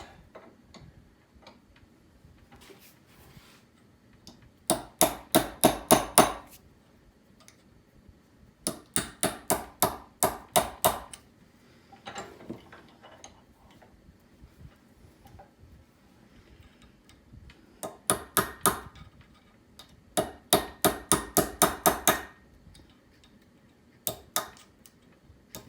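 Hammer blows strike a rebuilt fuel injector from an 89 Isuzu Trooper RS 2.6L, falling in several quick bursts of sharp metallic taps with quiet gaps between them, no talking.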